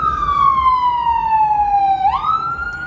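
An emergency vehicle siren wails loudly on a New York City street, one long falling tone that sweeps back up near the end over steady traffic rumble.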